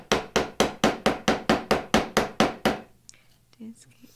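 A steel chisel is struck repeatedly to chop out a dovetail by hand: about a dozen sharp, evenly spaced blows over three seconds, loud and close, followed by quiet room noise.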